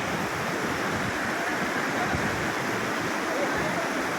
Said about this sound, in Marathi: पाणी जे एवढं आहे की बा दगड टाकला तरी वाहून जाऊ राहिलाय